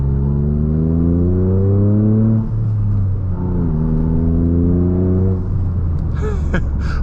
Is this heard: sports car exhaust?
yes